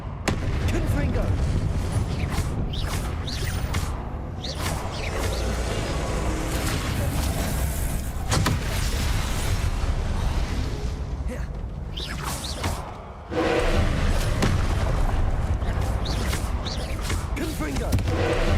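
Repeated Confringo spell blasts in Hogwarts Legacy, a string of booming explosions with crackling mechanical debris over nearly twenty seconds, loud and dense, with a voice shouting over the action.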